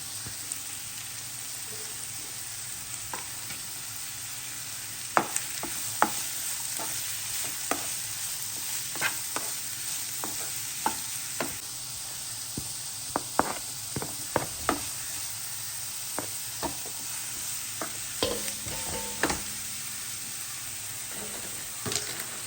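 Onion, ginger-garlic paste, salt and chilli stirred in a pan for a Kerala pearl spot fish polichathu masala: steady close sizzle with a spoon knocking and scraping the pan at irregular intervals, no voices.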